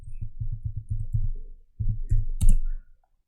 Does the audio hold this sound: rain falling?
no